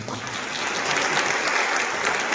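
A crowd claps and applauds steadily and densely at a church worship service, a continuous wash of hand claps with no voices standing out.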